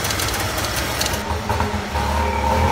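A three-cylinder piston engine runs steadily at close range, a lumpy mid-pitched thrum with a slight uneven pulse, heard alone for a few seconds.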